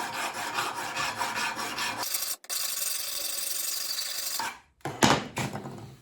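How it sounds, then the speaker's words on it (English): A hand file rasps across the bevel of a drop point knife blade in quick repeated strokes, close and gritty. The filing breaks off briefly twice and then resumes with a few sharper strokes, and no one speaks. "I've been filing kind of the middle of the bevel and avoiding the knife edge"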